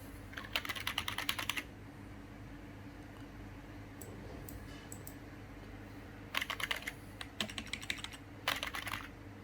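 Bursts of fast typing on a wireless computer keyboard under test, clattering in three clusters with quiet gaps and a few isolated key taps between, over a steady low hum.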